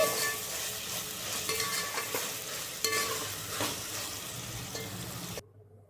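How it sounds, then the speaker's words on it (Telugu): Vegetables frying in a pan for vegetable biryani, a loud, dense sizzle with steady stirring scrapes running close up, stopping abruptly near the end, with no talking. "చూసారా ఎంత బాగా వేగుతుందో"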